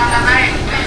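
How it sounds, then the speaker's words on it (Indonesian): Indonesian KRL commuter train arriving at a platform on the route toward Tangerang station, a steady loud rumbling roar with a brief rising tone, close by and continuous. "Nah, ini keretanya sudah datang ya teman-teman."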